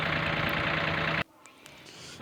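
An old Fold tractor engine, just repaired, runs with a steady loud drone that cuts off abruptly halfway, leaving quiet background noise.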